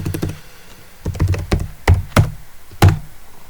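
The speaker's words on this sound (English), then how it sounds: "and here I will type" A computer keyboard being typed on in short, irregular bursts of clicky key taps, close and clear with quiet pauses between bursts.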